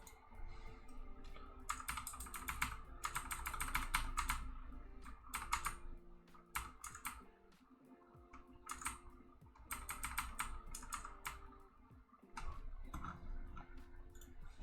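Someone types on a computer keyboard, close up, in bursts of rapid clattering keystrokes broken by short pauses and single clicks, over a low hum with no talking.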